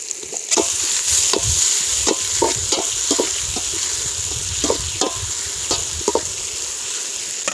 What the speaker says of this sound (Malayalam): 1/2 കിലോ സവോള എടുത്തിരിക്കുന്നത്. നമുക്കതൊന്ന് നല്ലോണം ഒന്ന് വഴറ്റിയെടുക്കാം.